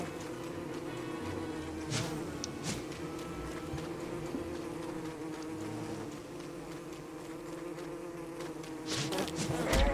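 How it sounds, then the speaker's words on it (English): Bees from an attacked beehive in the Don't Starve Together video game produce a steady, continuous droning buzz with a few brief sharper clicks, and no talking. "I attacked a beehive."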